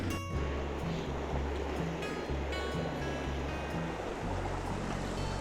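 A mountain waterfall near Khomyak in the Bukovel area of Ukraine, running with little water, gives a constant, dense rushing roar that is close and steady with no talking.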